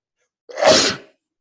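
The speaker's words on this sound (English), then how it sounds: "So just had some sneezing" A single loud sneeze from an adult close to the mic, one sharp burst that fades quickly into silence.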